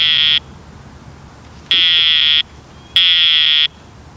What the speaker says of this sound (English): if the bike gets moved or the SmartHalo detects some motion, it will set off an alarm